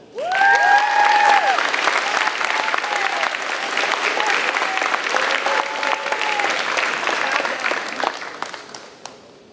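A high school honors ceremony crowd applauds a math award winner, loud sustained clapping that starts abruptly, mixed with a few whoops and cheers early on, tapering slightly toward the end.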